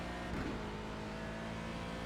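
A race car in a sim racing event at the Legacy Silverstone circuit drones steadily with a dense engine note, a brief swell suggesting another car passing alongside, continuous and mid-level.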